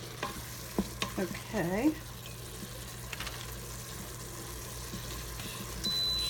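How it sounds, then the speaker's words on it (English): Taco pasta ingredients sauté in an Instant Pot, with a few scraping stirs early and a steady low sizzle and hum after. Someone speaks one brief word. "I'm going to move the saute down to medium."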